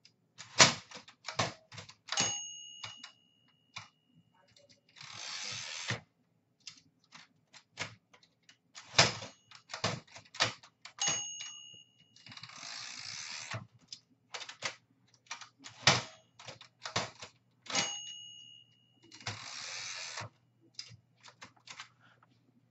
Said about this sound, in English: Yes, this typewriter.